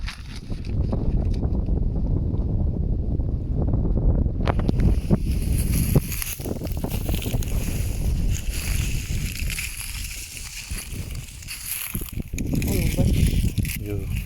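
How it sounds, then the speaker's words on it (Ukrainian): Strong wind buffets the microphone in continuous low roaring gusts in an open cornfield, with people talking intermittently under the noise. "Воно вітер такий."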